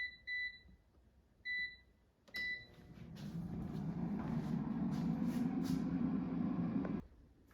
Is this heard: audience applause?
no